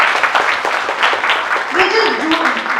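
Brief applause from an audience at an institutional program, scattered claps rising and falling while a voice speaks over them.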